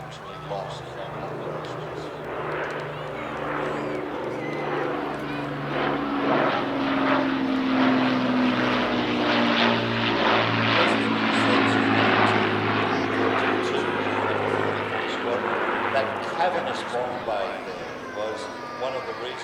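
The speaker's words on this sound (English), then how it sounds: "the Lancaster also debuted its new two-ship sequence with the RAF Typhoon Display team" An Avro Lancaster bomber and an RAF Typhoon fly a two-ship display at the Midlands Air Festival, a sustained droning rumble of piston engines and jet noise, with a voice talking over it.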